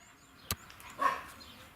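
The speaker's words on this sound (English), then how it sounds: "57 dogs living right next to it, so it's a bit noisy here." Dogs at an animal rescue next to a village farm plot, with one short sharp bark standing out over faint background noise, followed by a softer, higher yelp or whine a moment later.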